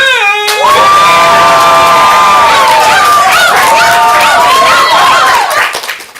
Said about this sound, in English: you shout and cheer for the team you want